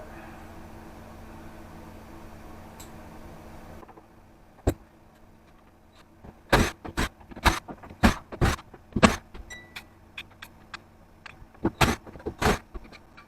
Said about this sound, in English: Now comes the unscrewing. That's Phillips square drive.